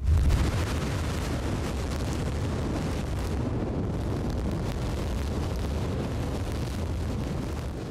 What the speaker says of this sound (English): You're looking at a pipeline exploding after it was hit by shelling